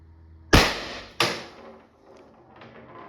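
Two sharp, loud reports from a less-lethal launcher, about half a second apart, each with a quick decaying tail, followed by faint background rustling.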